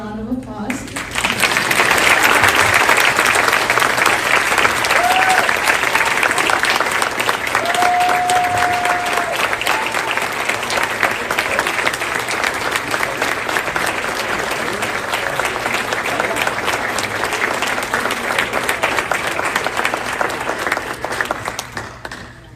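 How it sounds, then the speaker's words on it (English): A large audience at a town Hall of Fame ceremony breaks into loud, sustained applause that fills over twenty seconds, dense and steady before tapering off at the end. "so can you stand up for a round of applause?"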